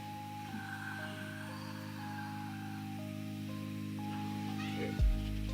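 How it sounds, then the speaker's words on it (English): A soft, brief cat meow near the end, over a quiet background of steady electronic tones. "Everybody meet my cat."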